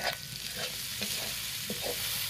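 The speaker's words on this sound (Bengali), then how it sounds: "আমার আদা রসুন ভাজা ভাজা হয়ে গেছে। এখন আমি এর মধ্যে কাঁচা লঙ্কা কুচি দিয়ে দেবো।" Ginger and garlic fry in a pan as chopped green chili is added and stirred in, giving a steady loud sizzle broken by brief scraping stirs.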